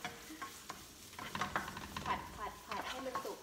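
Tom yum shrimp fried rice with onion stir-fried in a pan, repeated scraping and clinking stirs over a continuous sizzle, close and fairly quiet, no talk.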